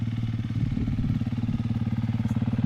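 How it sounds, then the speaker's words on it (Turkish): A nearby motorcycle engine runs steadily at idle during an enduro ride, giving a rough, even low throb with a regular pulsing beat, alone with no talk. "Evet mesela grubumuzun bir motoru."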